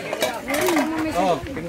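Plates and cutlery clink and scrape during a family meal on vacation in La Union, close and continuous under a busy background of voices.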